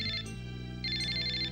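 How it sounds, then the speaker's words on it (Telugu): A telephone rings in a Telugu TV serial with a bright electronic trill, two short bursts, fairly soft and alone. "ఫోన్ వచ్చింది."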